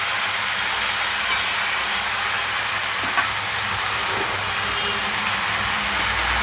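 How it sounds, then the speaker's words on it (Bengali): Amaranth and elephant-foot-yam stalks sizzle steadily in a hot pan while being stirred, a continuous close frying hiss with a few faint scrapes and no talking. "ভালো করে নেড়ে নিলাম"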